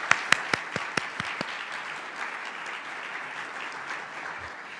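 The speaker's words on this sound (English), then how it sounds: "let's give the museum a wonderful round of applause for hosting us" Audience at a museum forum with Ohio State University's president applauds, opening with a few sharp near claps before settling into steady, moderate clapping from the crowd that tapers slightly.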